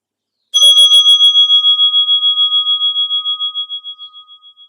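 A small bell is struck once during a yin yoga session, ringing clear and close with a bright, sustained tone that wavers and slowly fades over several seconds, with no talking.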